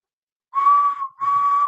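Someone whistles in imitation of Edward the engine's steam whistle from Thomas and The Magic Railroad: two loud, steady, breathy blasts separated by a short gap, with no talking.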